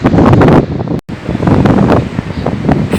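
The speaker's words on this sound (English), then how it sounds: "the more windier it's starting to get now" Strong gusting wind at the Blackpool seaside, roaring loudly and buffeting the microphone in heavy blasts with a brief drop-out near the middle.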